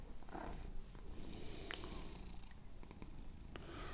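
A fat tomcat lying on a table purrs steadily and closely, a continuous low rumbling rhythm with soft breaths, and faint household noise and brief clicks in the background.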